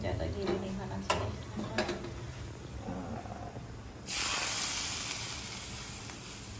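Cashews roast in ghee in a pan for carrot halwa, a soft steady sizzle with a few light clinks of a utensil, and the hiss swells louder partway through.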